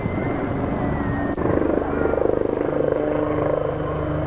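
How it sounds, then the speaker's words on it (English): A military helicopter flies at the Humberside air show in 1992, its rotor beating in a steady pulsing throb that swells slightly midway and continues without talk. "It's a very versatile helicopter."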